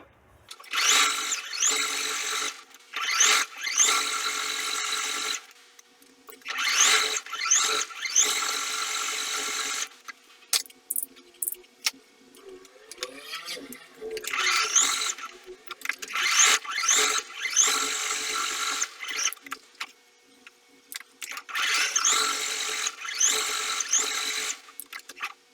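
A sewing machine stitches double-layered fabric for a small sheep doll, whirring in repeated bursts of a few seconds each, separated by short pauses, close and alone.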